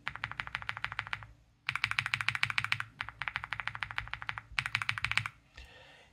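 Keystrokes on an Epomaker Galaxy 80 mechanical keyboard with JWK Lilac switches come in three fast bursts of even clacking with brief pauses between them, heard up close and alone.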